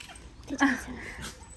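A dog at a farmhouse gives a short whimpering yip, fairly close and moderately loud, with a softer whine after it and faint voices nearby.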